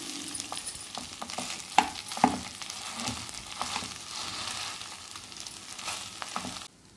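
Egg fried rice being stirred in a pan over full flame, a light sizzle under repeated scraping and tapping strokes of a spoon, with two sharper clanks, close up and no voices.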